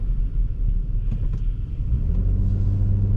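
2019 Jeep Cherokee Limited with a 4x4 system driving on a road in bad weather, a steady low engine and road rumble heard from inside the cabin, loud and continuous with a slight rise in engine note, no talk.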